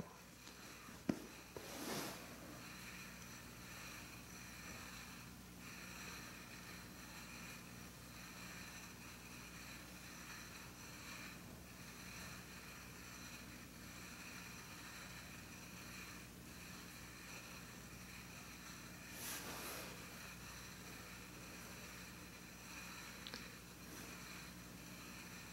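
A DIY stainless steel stove burning denatured alcohol beneath a pot of four cups of water gives a faint, steady rushing hiss that holds for the whole stretch. A few soft knocks break in near the start.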